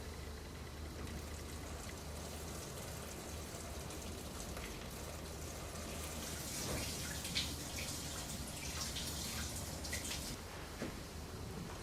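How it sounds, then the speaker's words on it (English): Water poured slowly through a colander into a small aquarium, a soft, steady patter of dispersed drips and trickles, fairly faint and close, swelling slightly midway with no talking. "I'll be pouring the water in really slowly, which will help disperse the water"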